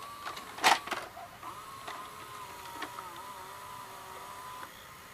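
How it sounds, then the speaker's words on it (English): A cassette is pushed into an Orion VR0120 VCR, giving a sharp clunk and a few clicks, then a quiet motorized whir of the loading mechanism and a soft final click, all faint and close. "now let's insert a cassette in the VCR"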